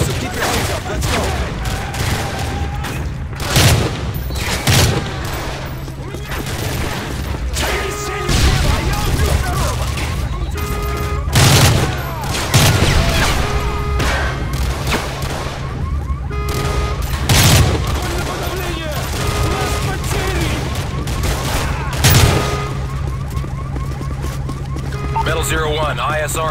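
Call of Duty: Modern Warfare 3 combat erupts in repeated bursts of rifle and automatic gunfire with heavy booming impacts, loud and near, over a rumbling battle bed while soldiers' voices shout in the mix.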